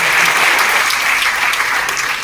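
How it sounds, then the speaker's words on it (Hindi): Loud, dense applause fills a hall during a Jain community meeting, many hands clapping steadily and close for a couple of seconds without a break. "अगर ये बात सही हो तो ताली बजा दीजिए।"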